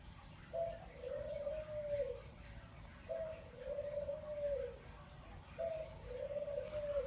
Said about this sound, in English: Hard to tell because the birds are so noisy in the background.